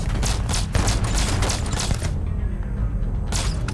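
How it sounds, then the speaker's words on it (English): Rapid bursts of gunfire in the space RPG Starfield, a dense run of close, loud shots in the first two seconds, then a brief lull before more firing resumes. "Who the hell shot me? There's people?"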